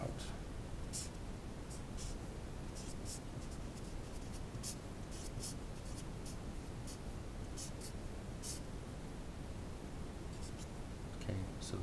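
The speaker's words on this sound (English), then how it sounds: "So let me just write this out." A quantum mechanics problem is worked out by hand, with quick, faint pen strokes scratching in irregular bursts over a steady background hiss.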